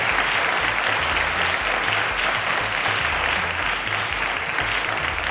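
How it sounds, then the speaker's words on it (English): A studio audience at a televised quiz show claps to welcome a student contestant, loud continuous applause throughout with a low musical backing underneath. "let's give Sunny a round of applause to welcome him"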